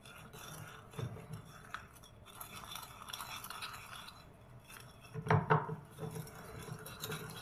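A small spoon stirs a homemade face-mask mixture in a bowl, giving soft scraping and rubbing strokes with a few louder clinks against the sides near the end.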